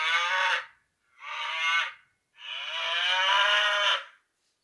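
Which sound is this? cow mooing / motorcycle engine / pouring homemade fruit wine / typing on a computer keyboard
cow mooing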